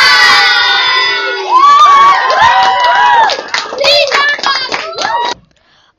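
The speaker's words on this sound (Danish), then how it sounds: "Og der bliver råbt." Children and a crowd shouting and cheering at a surprise birthday party, excited high voices rising together with some clapping, loud and close for about five seconds before cutting off.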